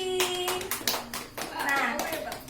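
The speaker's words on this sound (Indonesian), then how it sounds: "Tepuk tangan untuk Mbak Lutfi." A classroom group claps for a student, a short burst of scattered hand claps with children's voices chattering over it.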